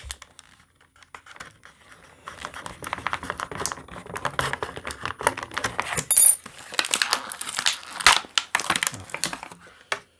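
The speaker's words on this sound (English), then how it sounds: "All right, let me cut this." Diecast toy packaging is cut open up close, with irregular plastic snips, crinkles and clacks in quick bursts, a few sharper cracks mid-way, and no talk.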